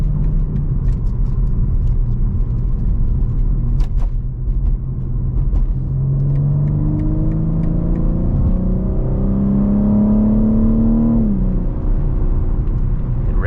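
A BMW M3 in sport mode revs on its own while driving, the engine note climbing steadily to a high pitch before dropping off sharply, loud and close under a constant road rumble.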